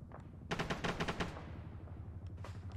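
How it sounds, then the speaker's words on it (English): Rapid gunfire from the ARMA 3 video game, a quick burst of several sharp, evenly spaced shots followed by a couple of fainter distant reports over a low background rumble. "He's shooting to the left of him."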